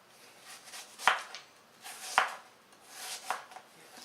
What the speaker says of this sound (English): now that we've cut up our apple into thin slices